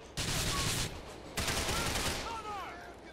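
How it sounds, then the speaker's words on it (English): Shotgun blasts in Grand Theft Auto 4, two loud booming shots about a second apart, each with a long rumbling tail, followed by faint game sounds. "I love my shotgun."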